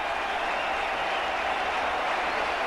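A crowd at a 1996 Cricket World Cup match between Sri Lanka and Australia applauds, a steady, distant wash of clapping that holds evenly throughout with no clear voices.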